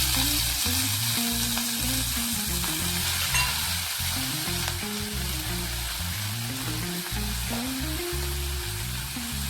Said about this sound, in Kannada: ಮೆಂತ್ಯ ಪಲ್ಯ ಸ್ವಲ್ಪ ಹುರ್ಕೋಬೇಕ್ರಿ